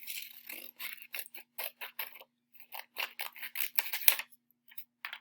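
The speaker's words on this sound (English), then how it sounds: "cut along the fold line" Scissors snip through a folded paper square, cutting it into fourths along the fold line: a quick run of crisp, close cuts in short bursts with brief pauses between.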